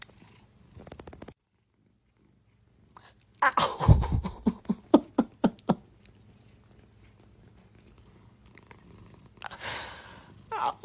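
A fat cat purrs in a close, pulsing run of rumbling breaths in the middle of the clip, with voices speaking before and after.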